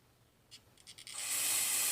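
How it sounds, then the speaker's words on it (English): A short spray of carburetor cleaner into a Honda TRX400 carburetor bursts into a steady, loud hiss after a few faint clicks and sputters. "So when you spray cleaner in there, hopefully you can see this."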